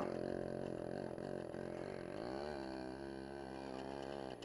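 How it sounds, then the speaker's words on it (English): Yamaha RX 100 two-stroke motorcycle engine on a bumpy village ride with worn suspension, a steady buzzing drone that rises in pitch partway through, loud and close throughout. "Two-stroke. I love that sound, man."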